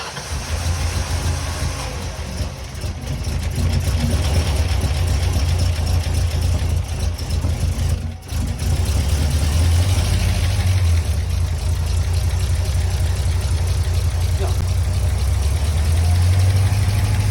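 A 1995 Mustang GT with swapped GT40P heads and intake gives a loud, low, continuous engine rumble nearby, a brief dip partway through, then a steady running idle with slight revs.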